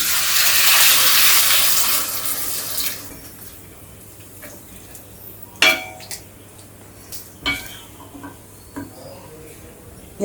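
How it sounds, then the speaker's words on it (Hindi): A gush of water pours noisily into a cooking pan of fried spices for a few seconds, then stops, followed by scattered clinks and knocks of kitchen utensils. "अब इसे हम डाल दे रहे हैं पानी।"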